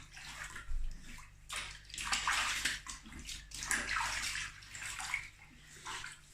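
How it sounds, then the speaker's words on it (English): Hands splash and slosh in a container of sterilizing solution while dry hopping homebrew beer, close, irregular bursts of watery swishing with brief pauses between. "I'm just going to wash my hands first in the sterilizing solution"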